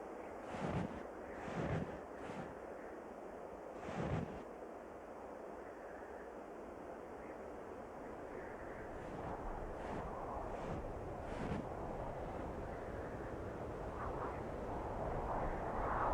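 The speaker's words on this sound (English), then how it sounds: "100-mile-per-hour winds which batter the Cape" Strong Arctic wind batters the snowy Cape, a steady low roar with a few gusty bursts, fairly faint and building slightly toward the end.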